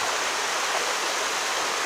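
A mountain stream and waterfall at Đát stream in Long Tiến, Tuyên Quang, flow over slippery rocks in a steady, dense rush of water that stays loud and even throughout, with no voices.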